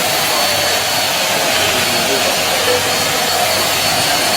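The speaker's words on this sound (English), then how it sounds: "this here is the Merlin Arnica 2-in-1 mini vac." A Merlin 2-in-1 mini vacuum cleaner runs on short-pile carpet, giving a loud, steady, airy whine that holds unchanged close up for the whole stretch.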